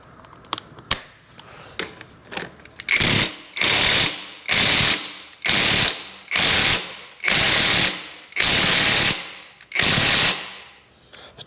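A ratchet snugs down bolts on the primary drive of a 1974 Harley-Davidson FXE Shovelhead Super Glide, starting with a few sharp clicks and then a series of loud, rapid ratcheting bursts separated by brief pauses, close up.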